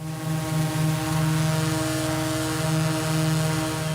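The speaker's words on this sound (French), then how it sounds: "d'avoir mis des algorithmes pour diminuer le bruit du drone dans l'audio" A hovering drone's propellers recorded through the drone's own onboard microphone, a steady droning whine with stacked tonal harmonics, loud and continuous with no talk.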